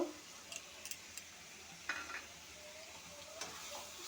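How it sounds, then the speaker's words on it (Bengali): Turmeric, chili, cumin and coriander powders frying in oil in a pan for a shing fish and loti curry, a quiet sizzle broken by a few sharp stirring scrapes and clinks. "ভালো করে মিশিয়ে একটু ভাজা ভাজা করে নেব"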